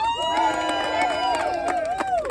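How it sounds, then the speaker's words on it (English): A crowd at a Palestine ceasefire vigil rally cheers and applauds, with sustained whooping voices over a steady wash of claps. "Give yourself a round of applause."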